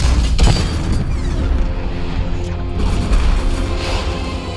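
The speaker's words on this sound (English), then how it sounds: "Sixty-millimeter cannon operational." In the Batman Arkham Knight video game, a sixty-millimeter cannon fires with deep booming blasts and rumbling low-end impacts, layered with mechanical clatter and game ambience throughout.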